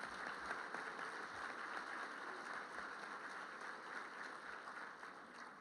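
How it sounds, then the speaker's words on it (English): Audience applause for students and sponsors at a Detroit Economic Club luncheon, a steady even wash of clapping at moderate level that fades slightly toward the end, with no talk over it. "Ladies and gentlemen, a round of applause for our students and sponsors."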